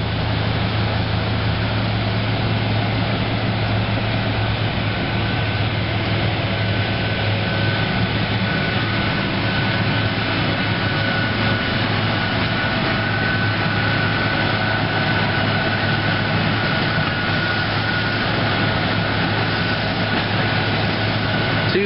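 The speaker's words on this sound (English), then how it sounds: "That's a big train." A long freight train of former Pennsylvania cars rumbles past at Thorndale in steady rain, a continuous loud low roar with a faint high squeal running throughout and no pause.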